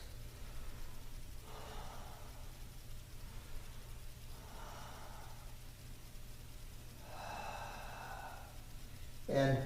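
Slow deep breaths during an exercise routine, three long airy exhales spaced evenly a few seconds apart, close and fairly soft over a low steady background hum.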